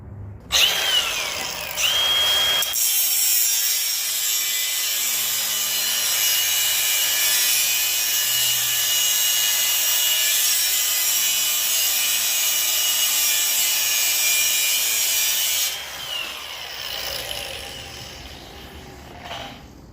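Battery-powered cutting tool slices through a damaged bolt on a Dana 44 axle under a Tahoe, a loud, steady high-pitched grinding whine held for about thirteen seconds after a brief start, then cutting off.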